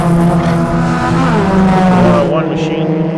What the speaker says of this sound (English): 3 to go for all of these cars flying through